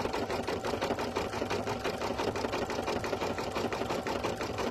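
Embroidery sewing machine stitching slowly, a steady close mechanical whirring with a rapid, even rhythmic clatter that runs throughout without pause or speech.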